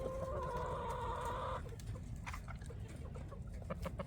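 Chickens cluck in their coop, a close, clear run of clucks at the start that gives way to quieter scattered bird calls over low background noise.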